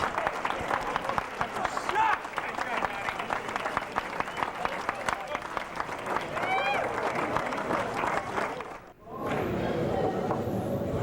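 Crowd at a 4 Wall Nationals handball match applauding a game-winning shot, dense clapping and cheering filling the room, then briefly dropping away before resuming more softly, with speech underneath.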